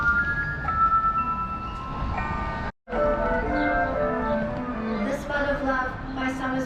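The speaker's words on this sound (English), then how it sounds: "Now the glockenspiel up here is gonna perform us a little show in a minute." A glockenspiel in Stratford, Taranaki plays a chiming tune of bright sustained bell notes, rising and falling with a brief gap in the middle, as outdoor voices murmur underneath.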